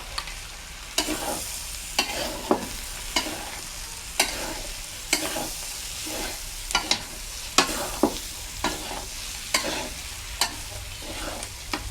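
Bitter gourd curry with fenugreek stir-frying in a pan, a steady close sizzle broken by regular scrapes and knocks of a spatula roughly every second, with no talking.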